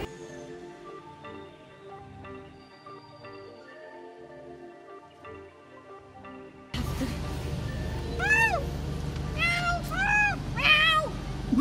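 A cat meows several times in quick, high, wavering cries after a stretch of quiet background sound, close and fairly loud.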